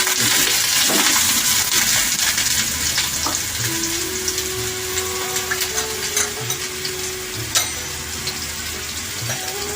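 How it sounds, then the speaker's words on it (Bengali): Steady sizzling of mustard seeds in hot oil in a kadai, with scattered sharp pops and crackles throughout and a faint stirring clatter, no voices. "সর্ষেটা ফাটতে শুরু করলেই আমি তারপরে আমড়াগুলো এই কড়াইয়ের মধ্যে দিয়ে দেব"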